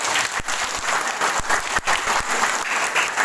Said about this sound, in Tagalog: Malakas na palakpak po sa ating Diyos.